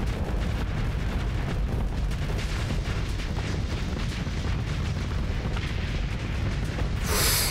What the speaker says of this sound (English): He's going to be having a big explosion